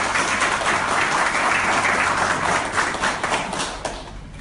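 Loud, dense applause from a chess club audience, steady sustained clapping filling the room for several seconds before starting to taper at the end.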